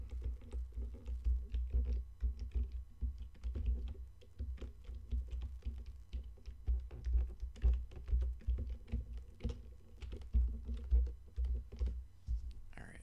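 Someone types on a computer keyboard in quick, uneven bursts of clicky keystrokes, close and moderately loud over a steady low hum, pausing briefly between flurries, with no talk.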